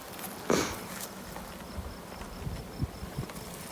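Honey bees buzz around an opened colony during a hive cutout in a farmhouse eave two stories up, a soft continuous drone with one louder close pass near the start and faint knocks and handling noises underneath.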